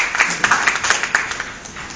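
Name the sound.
applause for a conference speaker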